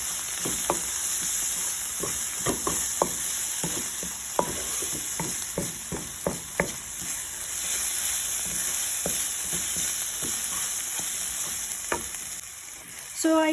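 Chopped onion sautés with cumin and red chili powder in a hot pan, a steady close sizzle broken by frequent sharp scrapes and taps of the spoon stirring, no voices.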